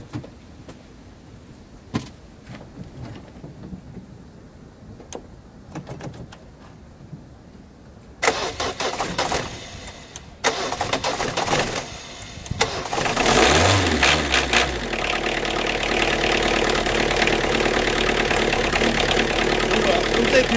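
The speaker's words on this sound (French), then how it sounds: "je vais réussir à démarrer le véhicule sans même avoir de batterie" A car battery-free vehicle is jump-started using a portable booster pack: quiet clicks and brief talk precede a cranking start, after which the engine settles into a steady, close idle that continues to the end.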